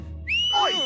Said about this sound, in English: whistle as loud as you can.